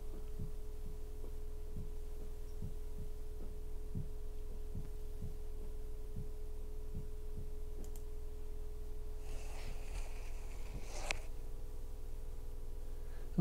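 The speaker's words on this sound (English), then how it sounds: "I'm also hearing a loud hum from somewhere," A steady low electrical hum, apparently from a washing machine somewhere in the home, drones throughout at a faint level alongside a regular soft ticking pulse and a few light clicks.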